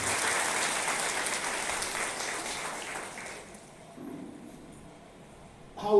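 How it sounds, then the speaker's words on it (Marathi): Audience applause at a Shiv Sena political gathering, a sustained wash of many hands clapping for about three and a half seconds before fading out into quiet room noise. "मग या सर्व भाषिकांसाठी एकदा जोरदार टाळ्या होऊन जातात."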